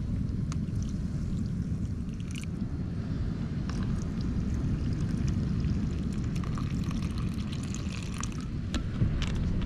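Coconut water is poured at a truck campsite on a seashore, a steady, low, bubbling liquid rush that runs for about ten seconds with faint clinks and taps over it and no voices.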